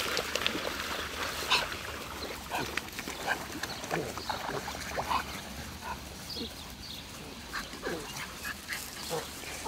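Twelve-week-old puppies wrestle roughly, giving a busy run of scuffling, yips and small growls at moderate distance, with a faint voice underneath.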